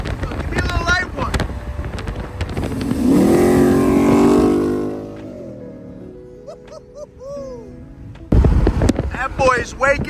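Loud engine revving from a Chrysler 300 SRT with a bar exhaust, heard in a shop, a sustained roar that swells and then fades, with people talking before and after.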